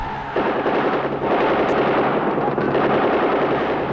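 Gunfire sound effect depicting the Pakistani army firing over Dhaka at night, a dense, continuous roar of rapid automatic shots with booming rumble, loud and sustained throughout with no speech.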